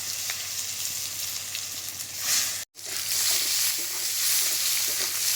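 Diced onions sizzle and fry in hot oil with dried red chilies and whole cumin seeds, stirred steadily in the pan, a dense continuous hiss broken by one brief dropout.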